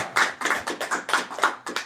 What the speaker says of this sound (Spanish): Dame un fuerte aplauso a ese rey que tiene autoridad